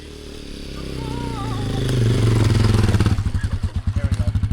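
Off-road adventure motorcycle riding down a hill, its engine building from a low rumble to a loud drone, then dropping into a slow, pulsing putter near the end, with voices heard over it.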